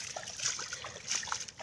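Irrigation water trickles and splashes as it flows into a wheat field, a faint, uneven burbling with small splatters, quiet and close with no speech.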